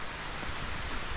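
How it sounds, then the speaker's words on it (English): Rain pours down outdoors in Costa Rica, a dense, even hiss of drops with no breaks, steady and fairly loud throughout. "We got caught out in the rain."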